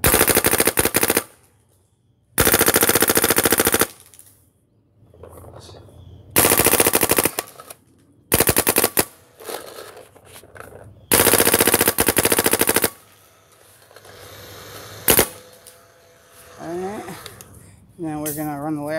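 Proto Rize paintball marker on semi-auto firing in rapid bursts, loud dense rattling volleys of shots separated by short gaps, with a person talking between bursts.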